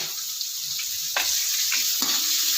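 Chopped onion fries with garlic in a pan, giving a continuous close sizzle and hiss, with a few soft scraping stirs along the way.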